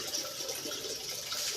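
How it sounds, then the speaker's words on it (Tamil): Water is poured onto garden plants in a steady, hissing splash that stays continuous and moderately close for the whole brief moment, with no voices. "வந்து செடிக்கெல்லாம் தண்ணி ஊற்றுறான்"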